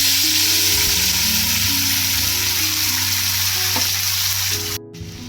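Masala paste hitting hot oil in a home kitchen, a loud, dense, continuous sizzle with a steady low hum beneath, cutting off abruptly just before the end.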